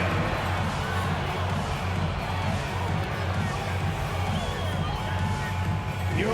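Arena crowd applause and cheering in an NBA 2K basketball game introducing the Phoenix Suns, a steady dense roar throughout with an announcer-like voice over it.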